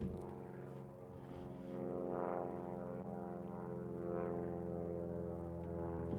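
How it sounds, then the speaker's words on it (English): Propeller airplane droning steadily overhead for several seconds, a low continuous hum with a faint swell midway, heard from a distance with no talking. "can you hear that plane?"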